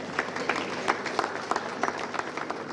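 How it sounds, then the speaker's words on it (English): Audience applause at a results fair, a dense steady patter of many hands clapping at moderate distance throughout, with no voices over it. "Please, let's give him a round of applause."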